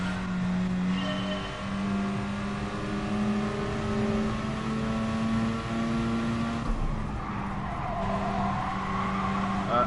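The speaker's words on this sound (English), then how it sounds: "this RX-7 does like to drift, it seems" Mazda RX-7 drifting in a racing video game, a steady engine drone with tire squeal running throughout, loud and continuous with no break across the stretch.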